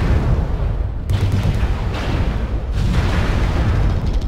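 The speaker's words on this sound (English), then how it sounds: "Airstrike dropped, artillery strike dropped." Airstrike and artillery explosions in a video game rumble as one heavy, continuous barrage of booms, loud and dense, with fresh blasts landing about every second.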